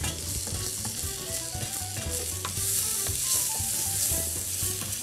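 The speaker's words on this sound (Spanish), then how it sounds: "puse cebolla, un poquito de aceite de oliva y ajo" Onion and garlic fry in olive oil in a pan, giving a close, steady crackling sizzle with scattered pops and stirring scrapes and no talking.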